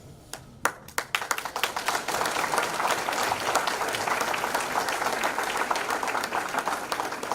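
Audience at a 2018 high school alumni awards ceremony breaks into applause, starting with a few sharp individual claps that quickly swell into dense, sustained clapping from many people, holding steady and fairly loud to the end.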